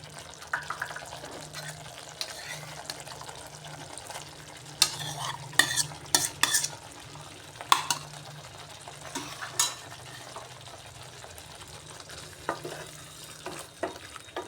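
Fried pointed gourd being stirred into a sizzling spice masala in a pan for a paneer potol dish, with soft scraping strokes and a few louder clatters of the spoon against the pan over a steady low sizzle, no talk.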